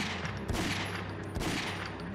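Rapid video game gunfire aimed at boarded-up planks blocking an attic, a dense burst of overlapping shots that runs steadily for a couple of seconds, loud and close.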